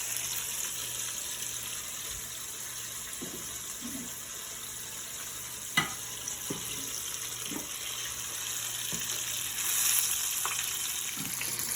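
Fish frying in a pan of oil gives a soft, continuous sizzle with scattered crackles and occasional sharp pops, heard close and fairly quiet with no voices.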